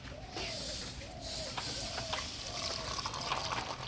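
Hot water poured steadily from a vessel onto dry soybeans, a continuous close splashing flow with no talking.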